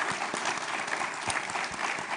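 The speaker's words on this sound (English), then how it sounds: "How about a round of applause?" An audience at a University of Florida sports symposium claps in a dense, even burst of applause heard from within the room.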